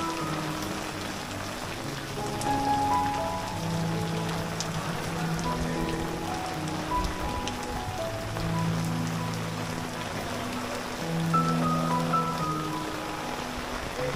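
Rain falls steadily at Bamboo & Bricks Resort in Panshet, a dense, even patter that holds at a constant level throughout with no voices.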